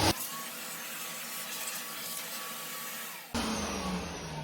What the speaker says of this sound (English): switch on the vacuum cleaner